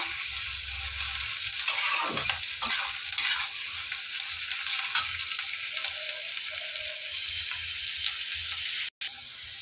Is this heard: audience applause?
no